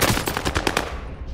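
Heavy automatic gunfire in the Call of Duty: Modern Warfare video game, a loud rapid burst of shots in close succession that keeps going for over a second.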